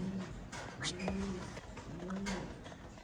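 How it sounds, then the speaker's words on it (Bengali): Andalusian pigeons coo close by in a loft, a soft repeated rolling call heard two or three times in rhythmic bursts, with faint background noise between calls. "বোথ অ্যান্দালুসিয়ান লাইনের কবুতর অ্যান্দালুসিয়ান থেকে আসা"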